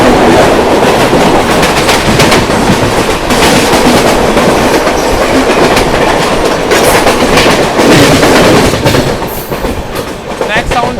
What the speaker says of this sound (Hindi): LHP होने के बाद ये गरीब रथ गजब चल रही है।